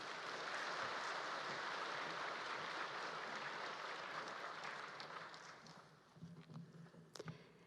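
Steady applause from a church audience welcoming a speaker, a dense wash of clapping that fades out toward the end, followed by a few scattered sounds.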